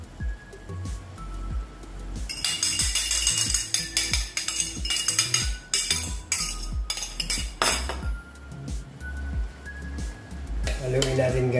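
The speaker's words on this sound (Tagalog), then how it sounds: "Haluin natin guys para mag incorporate yung itlog" Egg being stirred into sarciadong tofu in a frying pan, utensil scraping and clinking steadily against the pan over a constant loud sizzle, the clatter dense and rhythmic throughout.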